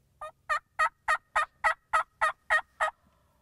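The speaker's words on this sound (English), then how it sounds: "we had 6 or 7 birds gobbling at us kind of along the ridge behind us" Wild turkeys gobble from a ridge, ten evenly spaced, loud, rolling calls in steady rhythm over about three seconds, carrying clearly through quiet woods with no talk.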